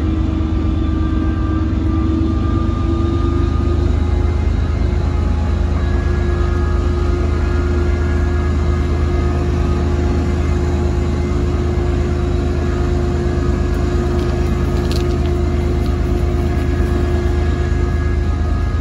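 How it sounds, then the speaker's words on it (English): Locomotives switching in a rail yard, seen through a fence, give a steady loud diesel engine drone with a sustained low hum that holds evenly from start to end, with no talk over it. "they're switching engines in there."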